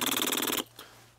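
A voice mimics machine-gun fire with a rapid, rattling burst of sputtering pulses, close and loud, lasting about half a second before dropping to a faint hum.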